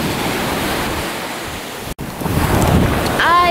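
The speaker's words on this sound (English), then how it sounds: "And this is the beach." Ocean surf breaks on a Jamaican beach, a broad rushing wash of water mixed with heavy wind buffeting the microphone, with a short dropout midway and no speech.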